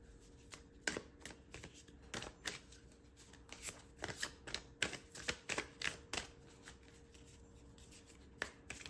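A Cosmic Pearl oracle card deck is shuffled by hand in a quiet room, close and soft, in a run of crisp riffling bursts and flicks that grow busier toward the end.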